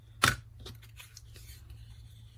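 Scissors snipping through paper in a quiet craft setting, one sharp cut up front followed by faint small rustles and snips.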